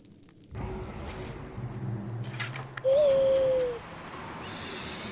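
A single clear owl hoot in the prehistoric game Far Cry Primal, a sustained tonal call lasting about a second over low ambient wilderness noise with faint rustles and clicks.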